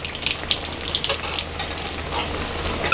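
Mackerel fries in a hot pan, giving a steady close sizzle with crackling pops and spits throughout.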